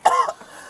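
A single sharp cough from a woman, close and loud, with a brief throaty follow-through.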